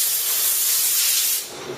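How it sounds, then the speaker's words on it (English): A steady, loud hiss of compressed air from an air compressor blowing continuously on a liquid-damaged Unibody MacBook Pro circuit board, broadband and close, easing off slightly near the end. "I'm going to use the compressed air to dry it partially."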